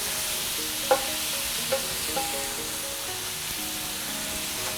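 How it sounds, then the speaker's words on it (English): Pepper steak stir-fried in Chinese-American lo mein style, tossed with two spoons: a steady, close sizzle throughout, broken by a few sharp spoon clinks, with no talking. "Now I just like to use 2 spoons to stir fry, and I'm going to cook this really quickly."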